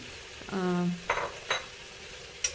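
Fried brinjal being stirred into softened tomatoes in a pan, a short scraping stir with a low hum early on, then a couple of quick utensil scrapes and a light clink at the end.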